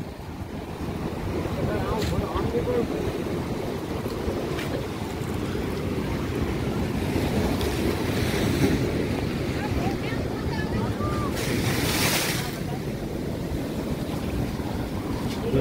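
Sea waves wash continuously where a river meets the sea at Gomti Ghat in Dwarka, a loud steady surf roar with heavy wind buffeting the microphone and brief swells of spray.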